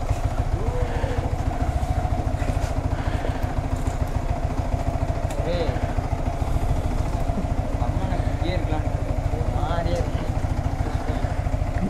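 Motorcycle engine running during a night ride in Kochi, a steady close mid-pitched chug under constant road noise, with voices talking over it.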